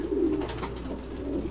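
Racing pigeons coo in a loft, a low steady burbling call that is close and continuous over a faint background hum.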